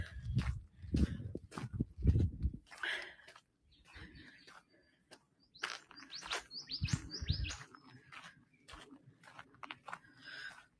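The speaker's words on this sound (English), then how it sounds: "apart from the crunch of my shoes on the gravel, we're hearing lots of birds." Birds chirp and tweet in bursts around the listener on Mt Blackheath in the Blue Mountains, Australia, while shoes crunch on gravel in a few footsteps early on; a voice speaks briefly.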